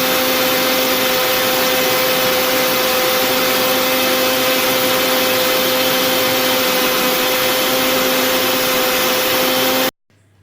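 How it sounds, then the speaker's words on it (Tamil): A mixer grinder runs continuously at high speed, grinding onion and tomato chutney with salt. The whir is loud and steady with a constant motor hum for about ten seconds, then stops abruptly. "உப்பு சேர்த்ததும் இப்போ நம்ம இந்த வெங்காய தக்காளியை அரைச்சி எடுத்துகிட்டு வந்துடலாம்."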